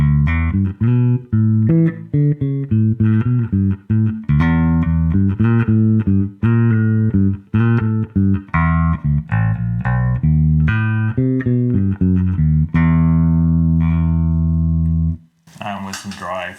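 Fender American Special Jazz Bass played with both pickups on, a run of deep, punchy plucked notes in a steady bass line, loud and upfront, ending on a long sustained note.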